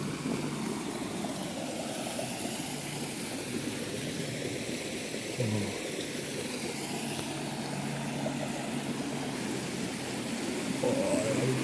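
A forest stream or brook flows steadily through woods near Walchensee in Bavaria, giving a continuous broadband rushing wash that stays even and fairly close for the whole stretch, with no talking.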